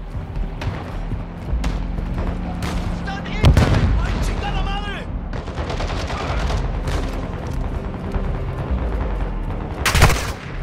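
Explosive charge detonating in a military video game, a loud broadband blast around the middle followed by another sharp burst near the end, set among continuous gunfire and combat noise with voices talking over it.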